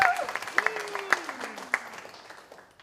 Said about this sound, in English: Can we get one more round of applause for Amanda?